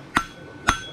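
Two sharp metallic hammer strikes, about half a second apart, ring out clearly as a bar shoe horseshoe is forged.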